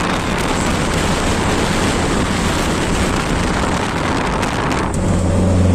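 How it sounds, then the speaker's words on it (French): Wind buffets an outdoor microphone at a viewpoint overlooking Vesuvius, a loud, constant broadband rush and rumble that fills the whole stretch and briefly eases near the end, with no voices. "Alors vous avez sûrement le vent."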